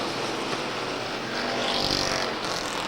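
Late model race cars roar around Waterford Speedbowl, a dense continuous engine drone from a pack of cars that swells briefly as they pass nearer.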